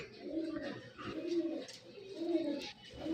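A pigeon coos close by in repeated low, rolling phrases, about three in a row, with a brief pause between each.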